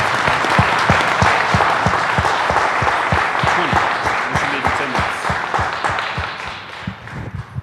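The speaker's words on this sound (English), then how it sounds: "let's give Pedro and Joaquín a big round of applause" An audience at Philadelphia City Hall applauds Pedro and Joaquín Noguera after a talk, a full burst of clapping with individual sharp claps standing out near, slowly thinning and fading toward the end.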